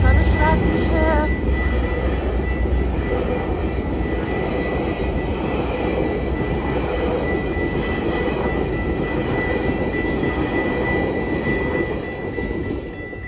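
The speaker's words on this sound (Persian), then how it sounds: "اینجا هم الان قطارش رد میشه." A train passes by in light rain in Unionville, Ontario: a broad, steady low rumble that fills the whole stretch, fairly close and even, easing slightly near the end.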